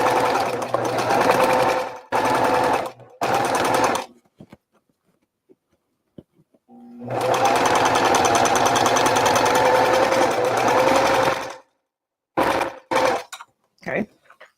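An embroidery sewing machine stitching a placemat pouch, with a loud, fast mechanical whirring in short bursts, then a long continuous run, separated by quiet pauses. Near the end come several brief starts and stops.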